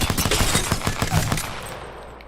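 A P2020 pistol in Apex Legends fires a fast string of close, punchy shots for about a second, then the sound fades into a short decaying tail.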